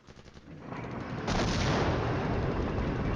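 Artillery bombardment in the war game Flashpoint Campaigns: a steady, loud rumble of explosions and gunfire that builds over the first second, then holds as a dense, continuous barrage.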